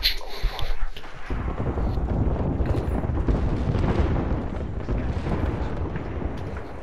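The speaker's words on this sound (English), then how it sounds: "I think I hit somebody with a grenade." A grenade blast in the Apex Legends shooter opens with a sharp burst, then a broad, loud rumbling roar sustained for several seconds, with no talking over it.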